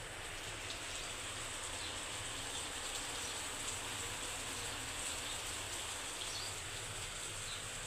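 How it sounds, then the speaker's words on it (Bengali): Steady rain pours outside, a dense, even hiss of drops on surfaces that continues without pause and with no voices. "বাহিরে বৃষ্টি পড়তেছে।"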